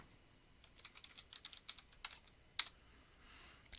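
Someone types a password on a computer keyboard: a run of light, uneven key clicks at close range in a quiet room, with one sharper tap near the end and no talk.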